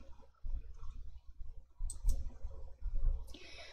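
A computer mouse clicking on a spreadsheet cell, a few quick clicks heard close up among low desk thumps and handling noise.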